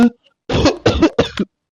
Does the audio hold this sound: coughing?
yes